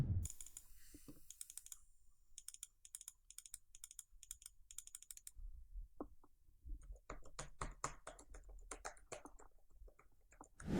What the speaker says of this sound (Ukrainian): тепер перевіряємо на тест клавіатури і мишки в звичайних умовах